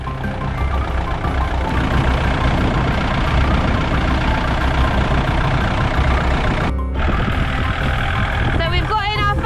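A heavy tractor engine runs steadily and loud throughout, a low continuous rumble with a brief dip near the end and some clanking.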